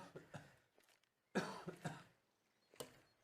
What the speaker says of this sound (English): Sorry, I have a cough.